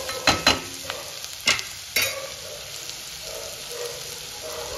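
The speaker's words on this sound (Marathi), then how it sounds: "कांदा परततोय" Chopped onion sautés in a pan for a Marathi home-cooked dish, with several sharp scraping stirs early on over a continuous crackling sizzle that settles into a steady fry.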